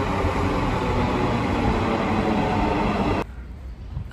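Marmaray commuter train in Istanbul, a loud steady roar of rolling wheels and rushing air heard from inside the carriage, which drops suddenly to a quieter hum near the end.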